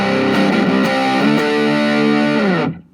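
Electric guitar played through a Boss MD-2 Mega Distortion pedal with its gain boost raised, thick saturated chords ringing loud and sustained for a few seconds before cutting off abruptly.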